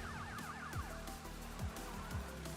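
Police car sirens wail in the Crash Bandicoot game, their rising and falling tones repeating over a steady bed of game music and engine hum, fairly quiet and with no talk.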